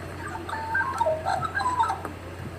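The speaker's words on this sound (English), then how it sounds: "So this is the Australian magpie. It's got a really interesting song for a corvid." An Australian magpie sings a varied series of warbling, flute-like phrases with short pauses between them. A steady low hum runs underneath.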